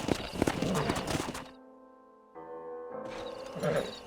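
A stallion in the Red Dead Redemption video game clip-clops along with loud, busy hoofbeats, breaks off briefly, then resumes, with a possible whinny amid the game sounds.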